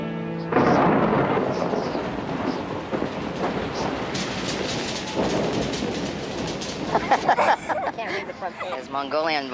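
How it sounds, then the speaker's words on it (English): A heavy thunderstorm with rain rolls in, a deep sustained rumble of thunder over a wash of falling rain, loud and continuous, with sharper crackling toward the end. "it's raining"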